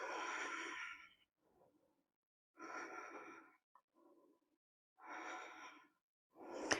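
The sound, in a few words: deep yoga breathing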